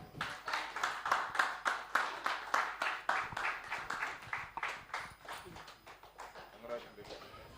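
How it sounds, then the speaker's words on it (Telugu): Audience at a gift ceremony clapping in a steady round of applause that gradually thins and fades over several seconds. "Please claps."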